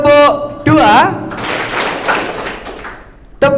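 A group claps in a rhythm clapping game at a student orientation session, with a long burst of scattered, overlapping claps set between a leader's spoken counting at the start and end.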